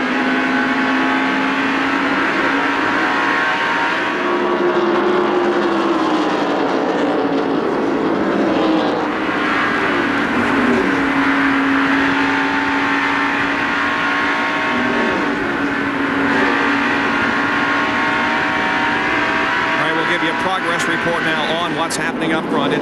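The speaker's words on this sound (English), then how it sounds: "listen to the points that the driver has to get off the accelerator" A 1989 Pontiac NASCAR race car engine, recorded in-car, roars continuously from close by, its pitch climbing and dipping repeatedly as the throttle is lifted and reapplied.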